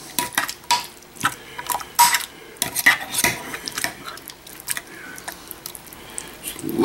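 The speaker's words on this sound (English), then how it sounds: "Make sure you mix it all thoroughly together." A utensil clinks and scrapes against a pan while cherry pineapple dump cake ingredients are mixed, giving an irregular run of close stirring knocks and scrapes with soft squishy textures.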